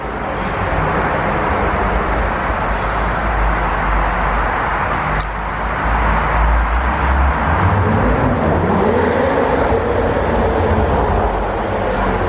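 A 2016 BMW 435i (F32, ZHP) exhaust rumbles loudly and steadily as the car drives by, with dense low-end roar and rough burbling texture throughout, no talking.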